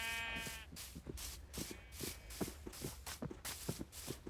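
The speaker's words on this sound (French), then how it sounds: "Il y a un mouton." A sheep in the Minecraft video game bleats once near the start, followed by a regular run of soft footstep-like thuds as a character walks, all fairly quiet with no talking.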